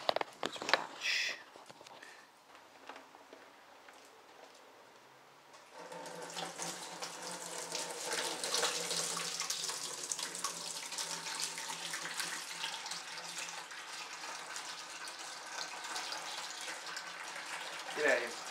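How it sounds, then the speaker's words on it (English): Liquid wort for an IPA homebrew pours and drains steadily into a fermenting bucket, a continuous splashing rush that starts after a quieter opening with some handling noise and holds at an even level to the end. "pouring the wort into the fermenting bucket"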